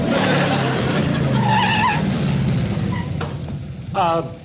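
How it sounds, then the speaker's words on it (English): A loud motorcycle engine roars through the whole stretch with a skidding, squealing quality, mixed with voices and music-like tones. "Comes that nut on the motorcycle again."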